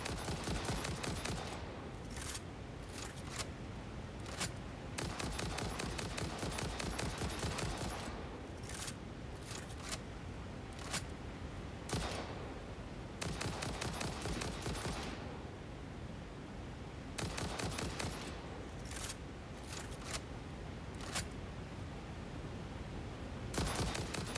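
Video game gunfire in the game Satisfactory, with rapid bursts of automatic shots in repeated volleys separated by short pauses, loud and close throughout.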